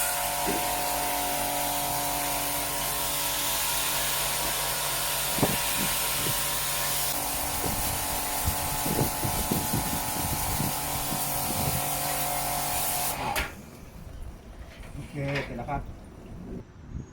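Water spray washing disassembled parts of a Daikin inverter air conditioner gives a loud, steady hiss with rattling splashes for about thirteen seconds, then cuts off, leaving quieter clatter.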